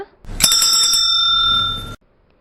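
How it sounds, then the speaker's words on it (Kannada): A single small bell, like a hand or bicycle bell, rings once up close and loudly. Its bright metallic tone holds steady for about a second and a half, then stops abruptly. "ಗಂಟೆಯ ಶಬ್ದ"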